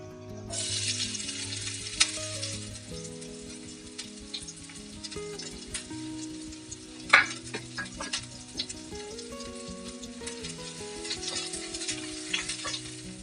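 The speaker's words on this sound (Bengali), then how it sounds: "তেলটা গরম হয়ে গেছে এখন আমি এর মধ্যে পেঁয়াজটা দিয়ে দিচ্ছি" Onions dropped into hot mustard oil in a frying pan, a sudden sizzle that starts loud and settles into a steady crackling hiss, with occasional clinks and stirring scrapes.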